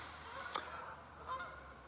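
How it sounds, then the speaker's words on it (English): Two faint honks from geese a short way off, one sharper call followed by a softer one, over a low steady outdoor hum. "Listen to those geese."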